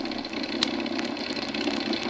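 A second aircraft engine in an old radio drama runs steadily, a loud continuous droning roar with a faint rhythmic knock, heard alone.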